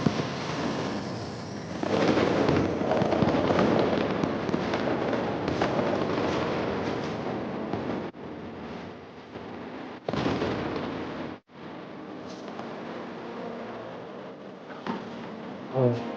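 Fireworks in a scene from the Chinese TV drama Zhu Yu, a continuous crackling and booming roar of bursts layered with music-like tones, loud and sustained with brief abrupt cuts, no speech.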